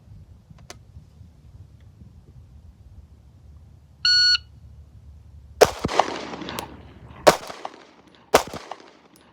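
A shot timer gives one short electronic beep, then three loud sharp pistol shots ring out at uneven intervals from a Sig Sauer P365 X Macro fitted with a red dot sight, fired at a range.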